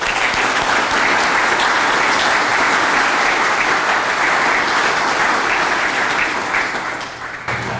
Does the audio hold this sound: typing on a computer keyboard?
no